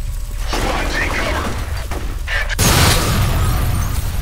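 A grenade blast in the shooter F.E.A.R. hits loud and sudden, rolling into a dense, sustained roar of debris and gunfire-like crackle, with brief voices heard over the din.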